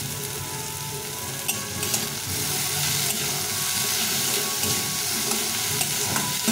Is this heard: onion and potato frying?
yes